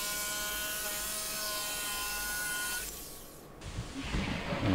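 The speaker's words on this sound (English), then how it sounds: "so I can carve those out with a jigsaw" A jigsaw cuts through plywood with a steady, buzzing rasp for about three seconds, then stops, leaving quieter handling noises and a short bump.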